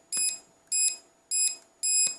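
Four evenly spaced high-pitched electronic beeps from an SJRC S20W drone's remote controller in return-to-home mode, each a short double chirp, repeat in a steady rhythm close to the microphone.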